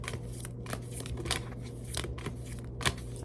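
Tarot cards being shuffled by hand, a run of quick papery riffles and crisp flicks repeating in short bursts over a low steady hum, with no talking.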